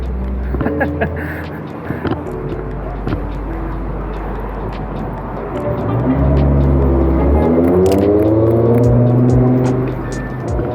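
A Ford Mustang engine rumbles on a city street, its low drone rising and swelling as the car pulls away, with someone talking over the traffic noise.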